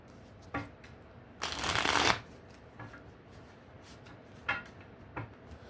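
Tarot cards are shuffled: a loud riffling burst in the middle, with a few softer card taps and snaps before and after.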